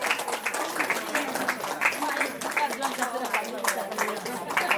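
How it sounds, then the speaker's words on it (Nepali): An audience at a temple honors program claps together in a dense, continuous patter of applause, fairly close and steady throughout, with a voice heard amid the clapping. "सबैले ताली बजाइदिनु म हार्दिक अनुरोध गर्दछु।"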